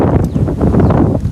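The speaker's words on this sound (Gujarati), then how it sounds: "હવા તગડી છે ભાઈ" Strong wind buffets the microphone during a solo bicycle tour in Uttarakhand, a loud rumbling gusty roar with irregular bursts over a short stretch.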